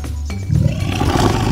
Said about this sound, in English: Snarling like a leopard.